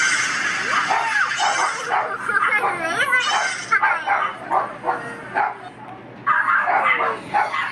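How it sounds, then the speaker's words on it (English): Several dogs bark, yip and whine excitedly close by in a rapid, overlapping, near-continuous burst with brief pauses, loud and lively. "The dogs are barking like crazy."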